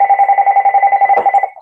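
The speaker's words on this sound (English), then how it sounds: "That's my phone." A telephone rings loud and close during a lecture, a rapid warbling electronic trill that stops abruptly.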